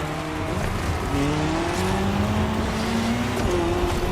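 Ford Puma Hybrid Rally1 rally car engine revving hard in a racing game, with steady gear-shifting tones rising and falling, loud and continuous throughout.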